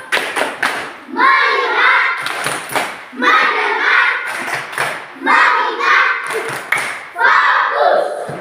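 A school class of children doing the rhythmic tepuk fokus clapping chant, groups of sharp claps alternating with loud chanted voices in a repeating pattern, close and energetic.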